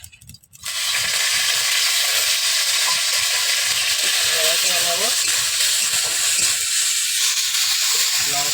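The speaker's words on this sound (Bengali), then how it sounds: "শুকনো লঙ্কা এবং 5 ফোড়নটা ভাজতে ভাজতে যখন কালো হয়ে যাবে" Dried red chillies and five-spice seeds fry in hot oil for a stuffed tomato and potato mash dish, with a loud, steady close-up sizzle and hiss starting abruptly and continuing throughout.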